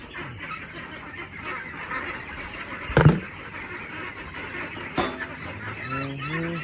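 Young ducks about thirteen days old call during morning feeding, with honking quacks and a louder burst around the middle amid steady background farm noise and rustling.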